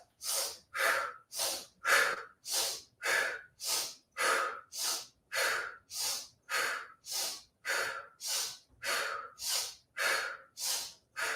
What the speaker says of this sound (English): We're going to do 10 breaths, and then the 11th one will be our hold.